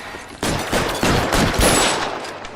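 Gunfire in the L.A. Noire video game: a loud, dense volley of overlapping shots that erupts suddenly and keeps rattling for about two seconds.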